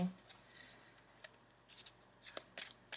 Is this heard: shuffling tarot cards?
yes